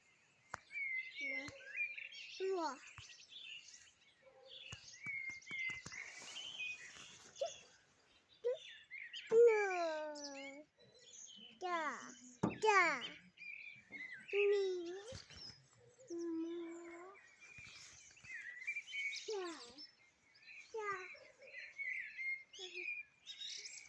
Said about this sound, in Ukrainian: вон на дереві пташечка